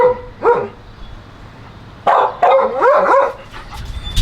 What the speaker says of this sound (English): Let's go see what they're barking at.